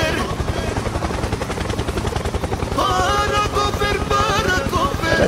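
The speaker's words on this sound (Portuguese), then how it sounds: "Helicóptero!" Helicopter sound effect in the Roblox horror game Jim's Computer, a steady pulsing rotor chop under loud game music and effects, continuous and close throughout.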